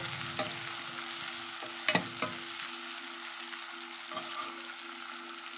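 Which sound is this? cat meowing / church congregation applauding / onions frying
onions frying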